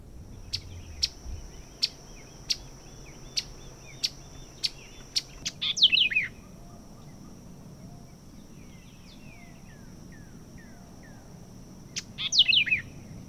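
Birds call from the trees at Eco Pond in the Everglades: a regular series of sharp, high single chirps about once a second, then quick twittering bursts, some trailing notes and faint distant calls over quiet background.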